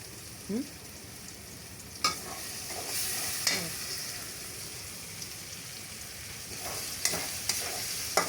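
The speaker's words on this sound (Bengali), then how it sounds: "ভাজা হয়ে গেছে" Soft steady sizzling of food frying in a pan, with a few scraping and stirring knocks from a utensil scattered through.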